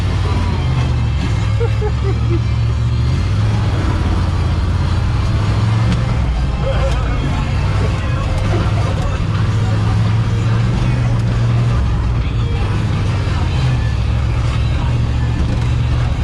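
A 1978 Ford Bronco driving with a loud, constant engine drone and road rumble inside the cab, the engine note shifting as gears change, while people talk over it.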